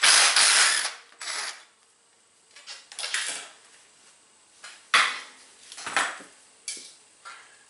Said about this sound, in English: So we're going to loosen up this pinch bolts right here.